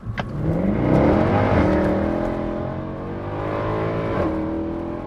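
A high-mileage Mercedes C63 AMG accelerates hard on a drag strip, its engine roaring loud and close as the revs climb through rising gear pulls, with no talking.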